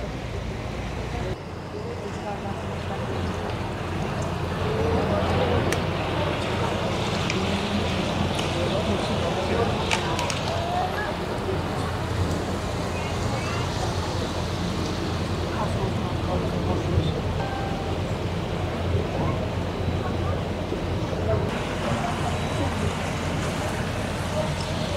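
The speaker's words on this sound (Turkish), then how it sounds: "teknede hareketimizden dolayı bir rüzgar söz konusu." Wind rushes past a moving yacht on the river near Halfeti, Urfa, as a constant close broadband roar under someone talking steadily throughout.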